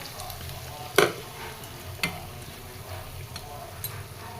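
Sautéed bitter gourd and egg frying in a pan, a steady close sizzle with a few sharp spoon-on-pan taps and stirring clinks, and no voices.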